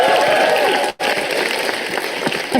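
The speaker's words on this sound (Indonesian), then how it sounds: "Langsung tepuk tangan saja untuk Akbar." Audience clapping at a campus performance event, a lively crowd applauding with a momentary sharp cutout before the clapping resumes, a voice faintly mixed in at the start.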